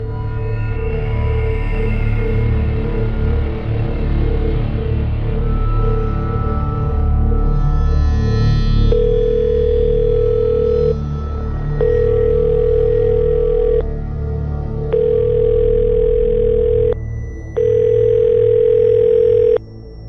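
A telephone call rings out unanswered, four evenly spaced ringback tones sounding steadily after a stretch of low background music.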